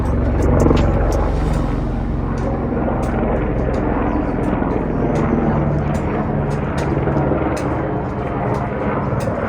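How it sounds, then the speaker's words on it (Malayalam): A helicopter drones steadily nearby on the Lukla trekking route to Everest Base Camp, its low rumbling thrum filling the air while voices are faintly heard underneath. "ഒരു ഹെലികോപ്റ്റർ വന്നുണ്ടോ"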